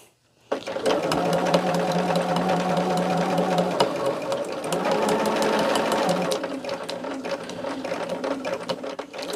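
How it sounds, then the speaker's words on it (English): Sewing machine stitching fabric hangers into a mini quilt, a steady close whirring hum with rapid needle clatter running continuously and slowing slightly toward the end. "this is where we're going to be sewing the hangers in that I have pinned in"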